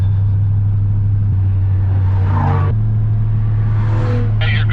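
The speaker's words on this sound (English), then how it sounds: "we have supercars like ripping past us" Supercars rip past on the road in two quick roaring bursts over a constant low road drone inside a moving vehicle, with no talk.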